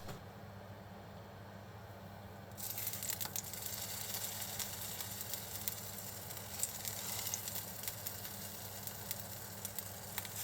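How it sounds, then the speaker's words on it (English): Tofu slices hit hot sesame oil in a frying pan, and a steady sizzle starts suddenly a few seconds in and crackles on, close and moderately loud, with no one speaking. "Heat some sesame oil in a frying pan. Once hot, add the tofu slices."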